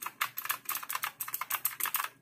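A Swen Standard 309M quiet compact keyboard with a numeric pad is typed on steadily, giving a rapid, even run of soft, close keystroke taps with no voices.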